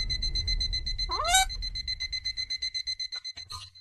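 Alarm clock going off at midnight in a quiet home, a steady electronic tone with a rising chirp partway through, then a rapid pulsing beep pattern, moderately loud and alone.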